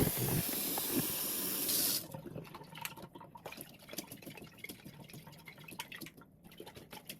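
Radish and lentil sprouting seeds rinsed under a running tap, a steady splashing stream for about two seconds, then quieter dripping, trickling and wet rustling as the seeds are handled.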